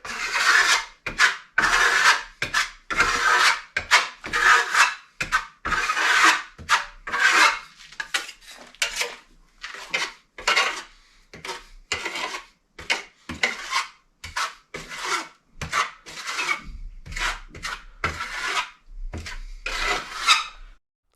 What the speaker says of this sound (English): So that's the reason in Venetian plastering you use the small trowels